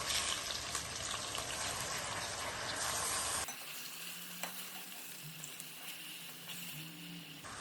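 Rice is tipped into fried onions in a pot for mixed biryani. A loud, hissing fry gives way partway through to a quieter, crackling sizzle with a few soft clinks.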